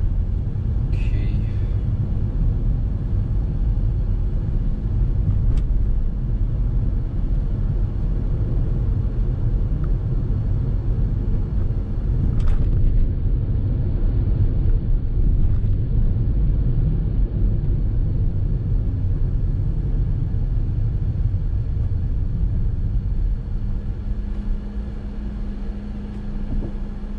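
A first-generation Perodua Myvi 1.3 drives at night in Malaysian after-work traffic, a steady low engine and road rumble heard from inside the cabin, with faint ticks and a slight drop near the end.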